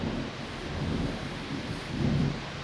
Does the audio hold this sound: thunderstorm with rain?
yes